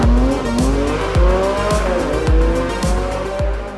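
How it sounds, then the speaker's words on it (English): A Porsche 718 Cayman GT4 RS making a full-throttle launch control start, loud close engine roar climbing sharply through rapid gear changes, with tire squeal underneath. "The launch control start with the GT4 RS is super easy"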